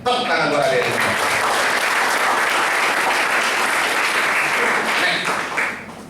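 An audience at a lecture on national defense applauds steadily and loudly, a dense wash of many hands clapping that swells at once and holds for several seconds before tapering, with a voice faintly audible at the start.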